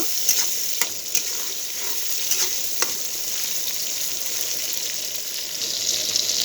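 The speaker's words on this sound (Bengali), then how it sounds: "চিংড়ি মাছটা হালকা ভাজা হয়ে গেছে" Prawns frying with onion in a pan of hot oil, giving a steady, close sizzle with occasional sharp crackles and light stirring scrapes throughout, with no voices.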